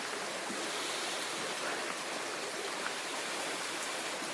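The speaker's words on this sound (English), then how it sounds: "now we have some freezing rain happening" Freezing rain falls outside a porch in western Massachusetts after snow, an even, faint hiss of steady patter that stays unchanged throughout with no voices.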